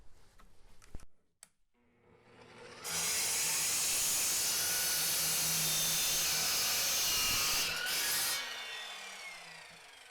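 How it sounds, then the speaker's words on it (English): A Tacklife EMS01A compound miter saw cuts a clamped board. A short spin-up is followed by a loud, steady high-pitched whine through the wood for about five seconds, which then winds down. "Now we're ready to use the saw and make this final cut."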